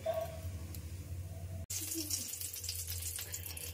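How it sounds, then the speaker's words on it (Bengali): Poppy seeds fry in a little oil over a low flame, giving a steady, close sizzle that drops out for a moment midway and then carries on. "পোস্তটা আমাকে লো ফ্লেমে যতক্ষণ না পর্যন্ত একটু লাল করে ভাজা হচ্ছে একটু তেলে ভেজে নিতে হবে।"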